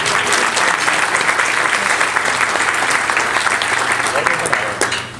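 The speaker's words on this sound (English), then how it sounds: "let's have a round of applause to all of you" Sustained, loud applause fills the room at the annual SAPAC lunch on Long Island, with many hands clapping steadily before tapering off at the very end.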